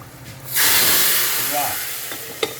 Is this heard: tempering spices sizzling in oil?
yes